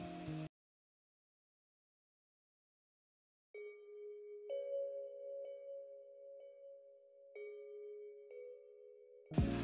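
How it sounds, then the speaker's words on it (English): A synthesized bell melody, pitched down and slowed with a halftime effect in Logic Pro X for a guitar trap beat, plays soft sustained chime tones that shift between a few notes, entering after several seconds of silence. "I duplicated that bell down, and then I just put halftime on it"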